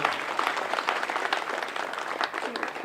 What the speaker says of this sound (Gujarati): આપણે બધા એકવાર જોરદાર તાળીઓ સાથે